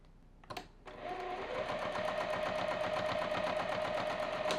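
A sewing machine stitches through rag quilt layers of fabric and batting, starting after a couple of clicks and then running in a fast, steady, rhythmic whir close by.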